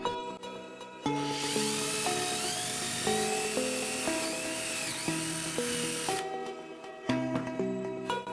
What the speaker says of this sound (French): Ensuite, on fait un repère et on perce un trou.